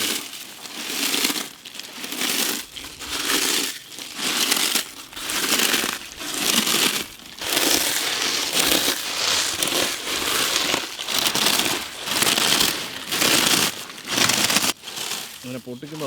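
Lays potato chips are crushed by hand in a rhythmic series of loud crinkling crunches, about a dozen bursts with short pauses between, close and dominant throughout.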